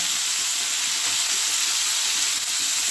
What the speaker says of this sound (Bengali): খুব ভালোভাবে ভেজে নেব